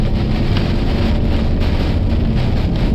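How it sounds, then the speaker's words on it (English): Heavy rain pours during a tornado storm, a dense, loud, continuous roar of downpour with steady hiss and low rumble, unbroken throughout and with no voices. "Yeah, rapid rain."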